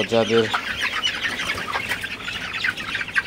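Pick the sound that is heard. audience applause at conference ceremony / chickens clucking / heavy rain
chickens clucking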